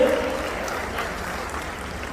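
Audience at a network marketing seminar applauding, a dense continuous patter of clapping from a crowd that holds steady for a couple of seconds.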